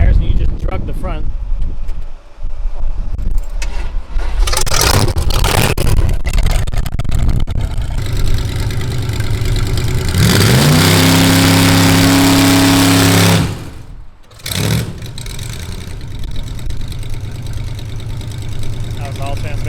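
A rat rod's engine drones loudly through a burnout, rising into a strained, steady high-revving roar before cutting off abruptly, with people talking over it.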